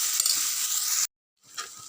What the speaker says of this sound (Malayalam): അപ്പം നമുക്കിതൊന്ന് നല്ലപോലെ ഒന്ന് വഴറ്റിയെടുക്കാം